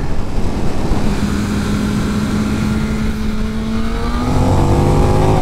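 A KTM 1390 Super Duke twin-cylinder motorcycle pulls hard out of a corner on a hill climb, its engine note rising steadily and loud throughout, heard alone.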